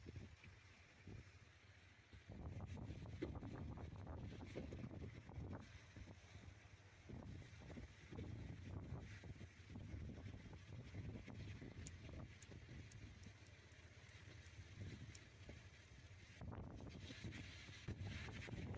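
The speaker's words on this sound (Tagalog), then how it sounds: "Pero malakas ang alon, saka malakas ang hangin." Strong wind buffets the microphone on a coastline with rough waves, a continuous low rushing roar with irregular gusty surges and no speech.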